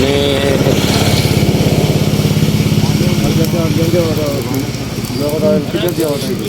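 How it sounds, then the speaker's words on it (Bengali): An engine-driven sugarcane crushing machine presses cane for juice to make jaggery. It drones loudly and steadily with a pulsing motor throb, with people talking nearby. "এই হলো আখের মেশিন, দেখেন"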